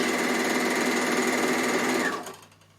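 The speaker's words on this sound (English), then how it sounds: "that is how you roll edge on an overlocker" A Bernina overlocker stitches a rolled edge on fabric, a loud, fast, even mechanical whir heard up close that runs steadily and then winds down and stops near the end.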